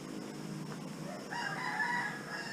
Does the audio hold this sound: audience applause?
no